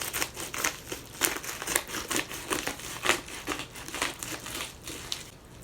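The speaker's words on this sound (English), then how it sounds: "I got the scissors and I'm cutting it now" Scissors cut open the plastic packaging of a wig, giving a steady run of soft crinkling snips and rustles, close by and fairly quiet, with no talk.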